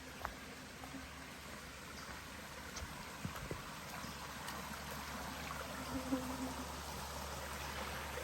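Fresh water of Tom's Run, a small stream along the Appalachian Trail, burbles faintly and steadily in the woods as a low, continuous wash with a few soft ticks, quiet and somewhat distant.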